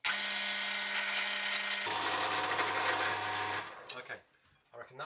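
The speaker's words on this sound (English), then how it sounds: "We're going to drill this very slowly because it's a really big hole." A power drill turning a large wood bit bores slowly through a piece of wood for a diddley bow, a loud steady whine that shifts pitch partway through, then stops abruptly and is followed by a few quiet scraping knocks.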